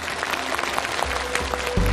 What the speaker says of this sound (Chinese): 掌声有请故事主人公登场